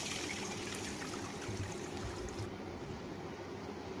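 Water poured into a pan of cumin, ginger, bay leaf and dried red chilli fried in oil for khichuri: a continuous close rushing splash and bubbling hiss that settles partway through, with no talk.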